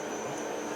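A short steady hiss of compressed air blowing swarf off a part on a lathe, a constant broadband rush with no talk.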